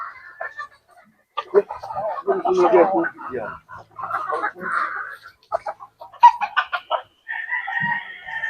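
A flock of fighting-breed chickens clucks and a rooster crows in a backyard breeding yard, close and busy, with scattered human voices in the mix.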